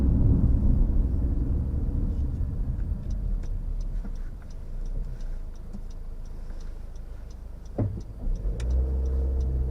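A 2018 Honda CR-V with a CVT pulls away from a junction, its engine hum smooth and steady from inside the cabin, accompanied by a light repeated ticking and a brief bump near the end.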